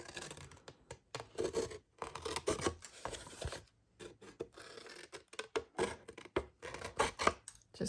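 Scissors snip across the corners of a mini album cover made of chipboard, producing a series of short, close crisp cuts and scratchy rubs separated by brief silences.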